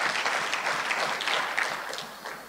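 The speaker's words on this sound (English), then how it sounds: "Clap for Jesus." A church congregation claps during a sermon, a dense, steady wash of many hands sustained at close range for the whole stretch, with no talk over it.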